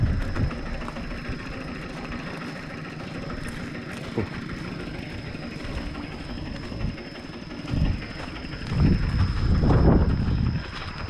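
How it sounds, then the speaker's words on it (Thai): A walk-behind two-wheel tractor engine runs with a steady, low rumble that swells louder in rough bursts toward the end, with no talking. "รถไถหน้าเดินตามนะ"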